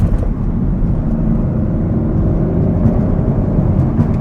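A 2023 Audi RS 5 Competition is driven hard through corners. Its engine sends a loud, steady low drone and rumble from inside the cabin, heard alone.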